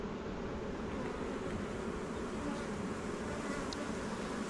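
Honeybees drone steadily around a hive in an almond orchard, a soft, continuous, even buzz of many insects at a fairly quiet level with no voices.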